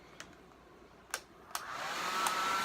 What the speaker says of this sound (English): Oh, I got a blow dryer too.